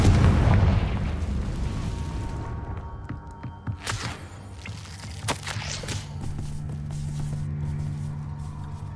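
A Confringo fire spell bursts in Hogwarts Legacy with a loud, rumbling explosion up front, fading into lingering crackles and several sharp pops and impacts of combat afterward.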